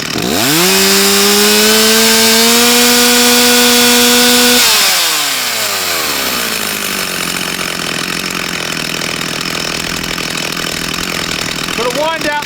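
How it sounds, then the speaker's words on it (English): Chainsaw being tuned for performance, revved flat out with a loud, steady high-pitched engine whine that holds for several seconds, then drops off and settles into a rougher, lower idle-like drone. "So I'm going to rev it flat out and see what it sounds like."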